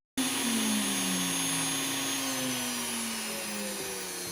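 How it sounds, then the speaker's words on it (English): An X-Carve CNC machine carves steadily, giving a continuous loud whine and hum with slowly shifting tones as the spindle and bit work, with no talking. "So turning on the machine and starting to carve."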